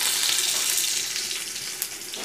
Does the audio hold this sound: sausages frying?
yes